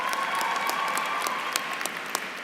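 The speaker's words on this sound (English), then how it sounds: "please give them a big round of applause" Audience in a graduation convention hall applauding the graduates' faculty, a dense, sustained wash of clapping from a large crowd with a few louder claps near the end.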